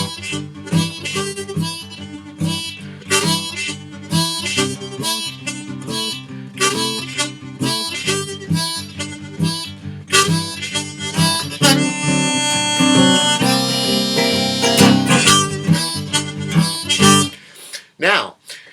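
A blues harmonica figure alternates draw and blow notes on hole 1 in a steady repeating rhythm, close and clear, with a brief held stretch near the end.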